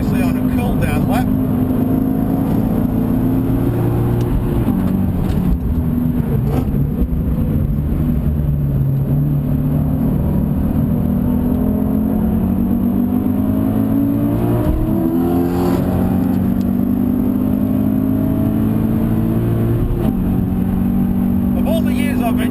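A Subaru BRZ engine drones and revs on a race track, rising and falling through gear changes from inside the car, loud and steady, while someone talks over it.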